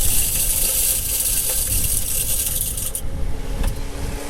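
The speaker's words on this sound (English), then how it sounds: "Now the spinner wheel starts, and now the next stage is it starts dropping feed down into it." A Texas Hunter fish feeder runs its spinner wheel, giving a steady whirring hiss with faint scraping and light ticks as feed pellets drop and scatter, alone and close.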